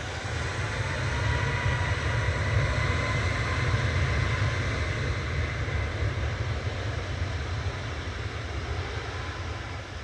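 A TUI Boeing 737 MAX 8 departs Manchester Airport, its jet engines a broad, steady roar with a strong low rumble, sustained at fairly constant loudness throughout without talk.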